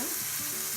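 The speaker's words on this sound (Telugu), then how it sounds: "దీన్ని బాగా మిక్స్ చేసుకోవాలి." Mutton curry with mint and coriander being stirred in a pan, a brief steady bubbling sizzle with low scraping movement underneath, close and fairly loud, no talking.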